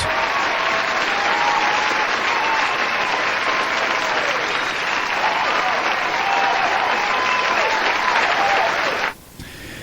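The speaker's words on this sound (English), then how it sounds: "I believe that deserves a round of applause" A live round of applause on a talk radio broadcast, sustained dense clapping that rolls on for about nine seconds before cutting off abruptly into quieter room sound.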